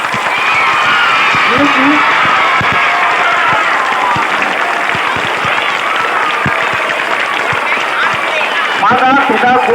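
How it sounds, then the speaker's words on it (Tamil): An audience gives teachers a long round of applause, dense continuous clapping loud and close, with a few voices over it near the end. "ஒரு நல்ல அருமையான ஒரு நல்ல கைத்தட்டலை கொடுங்க."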